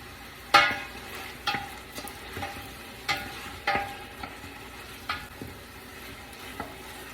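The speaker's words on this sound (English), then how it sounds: "we're going to brown that up nicely" Meatballs and garlic brown in a pan for a tomato sugo, a soft steady sizzle broken by about a dozen sharp scrapes and taps as a utensil stirs against the pan.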